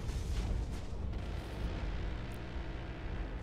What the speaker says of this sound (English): You can hear that point D Vulcan going off.